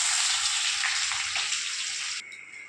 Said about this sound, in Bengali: পেঁয়াজটা আমি বেশি লালচে করে ভাজি নিই